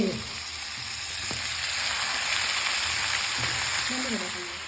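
Malabar spinach sizzles and crackles steadily in hot spiced oil, a bright continuous frying hiss with occasional clinks of stirring.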